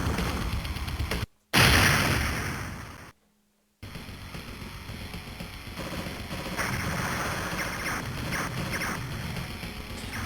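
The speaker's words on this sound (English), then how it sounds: "All buttons airstrike." Video game airstrike explosions boom loudly. One heavy blast bursts and rolls off into a long decay, broken by abrupt cut-outs, before a dense rumble of further detonations carries on.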